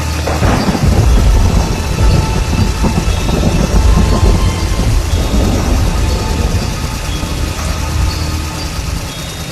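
A cartoon thunderstorm roars with heavy rain and rumbling thunder, loud and continuous throughout with no speech over it.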